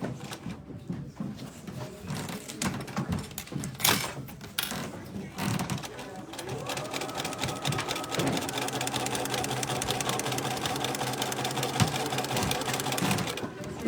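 A sewing machine stitches a zipped vinyl pouch. After some handling and clicks, a long, steady mechanical whir of the needle runs continuously and close up for the second half.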